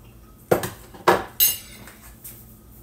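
Cutlery on a plate while eating meat on a carnivore diet: a few sharp metallic clinks and scrapes, close and fairly loud, spaced irregularly across a couple of seconds in a quiet room.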